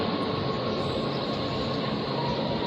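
A passenger train runs along the line near a junction toward Palanpur, a dense steady rumble and roar of wheels and carriages, close and unbroken throughout, with no voices.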